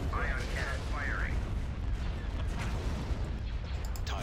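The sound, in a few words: ion cannon firing in video game Star Wars: Empire at War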